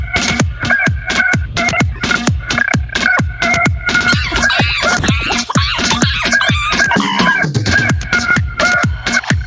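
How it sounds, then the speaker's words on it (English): A rooster crowing repeatedly amid rapid clucking, loud and close, with overlapping calls layered into a dense, busy stretch. "I thought the rooster can use some harmony"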